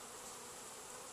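Honeybees buzz steadily around a foundationless hive in Georgia whose frames hold natural beeswax comb, a dense, continuous close hum with no voices.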